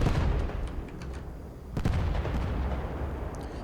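Modded destroyer gunfire from a naval combat game: a heavy report opens, and a second thunky blast lands mid-clip amid a steady low rumble and faint scattered pops, with no talking.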